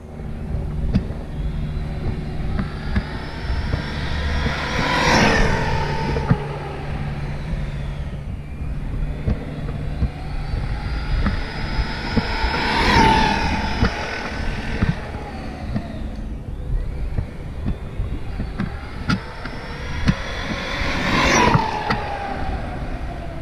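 Traxxas Maxx RC truck fitted with a wide kit on a speed run, passing three times: each run rises into a loud, high-pitched electric motor whine that peaks as the truck rushes close, then fades, with no talk.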